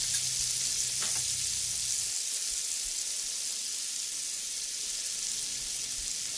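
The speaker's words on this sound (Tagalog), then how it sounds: "Pwede na po natin ilagay ang ating soy sauce mixture." Chicken fries in a pan as a soy sauce mixture goes in, producing a loud, constant close-up sizzle with a brief stir at the start.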